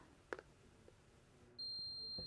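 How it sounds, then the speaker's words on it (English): A steady, high-pitched electronic buzzer tone switches on partway through and holds unbroken to the end, preceded by a few faint clicks. "We can take an LED out and put a buzzer in"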